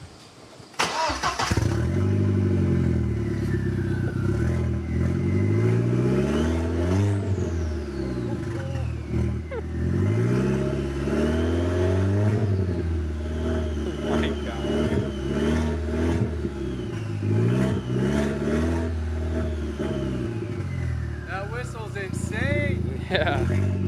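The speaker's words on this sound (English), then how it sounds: "you're gonna be able to hear this turbo" A VW Passat B5 with the 1.8T turbo engine runs close by, rumbling and revving with shifting pitch and spooling turbo whine held steady throughout, a voice occasionally speaking over it.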